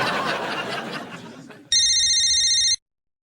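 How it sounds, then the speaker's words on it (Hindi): A telephone rings in one sustained electronic burst of about a second, loud and bright, right after a stretch of indoor talk and background chatter, then cuts off to silence. "फोन।"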